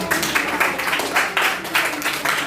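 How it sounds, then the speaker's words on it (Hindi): Students clapping for a classmate during a live class at Simultala Residential School, a brisk patter of hands that swells in short rhythmic bursts, fairly close and loud. "इनके लिए ताली बजाइए"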